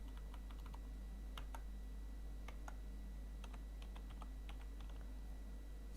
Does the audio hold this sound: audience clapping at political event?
no